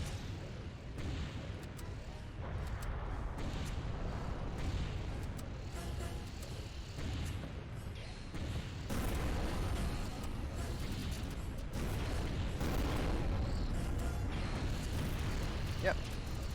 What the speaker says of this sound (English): Explosions work fine too.